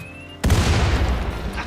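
A loud explosive boom in RimWorld, set off to blast through a wall during digging, hits suddenly after a short quiet lead-in and then rumbles and decays for over a second.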